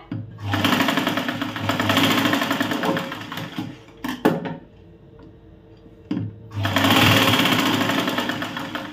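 Electric sewing machine stitching the seam of a tucked blouse, running in steady rapid bursts for a few seconds each, stopping briefly with clicks in between before starting again, loud and close.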